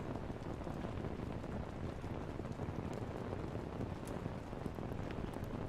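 Steady rain drums on a tent in a dense, even patter, with occasional louder drops and some wind, and no talking.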